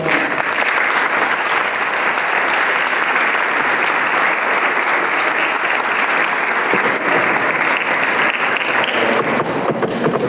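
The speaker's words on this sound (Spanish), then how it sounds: "Les pido que recibamos con un aplauso" Sustained, even applause from an audience welcoming a speaker at a genomic medicine lecture event, loud and steady for about ten seconds, fading slightly near the end.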